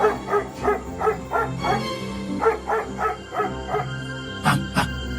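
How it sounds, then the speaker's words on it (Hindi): A dog barks repeatedly in a steady rhythm, close and fairly loud, over a background music bed, with a couple of sharper yips near the end; part of an animated moral story about a clever wolf. "कुत्ता भौंक भौंक कर दोनों की लड़ाई बंद कराने की कोशिश करता है।"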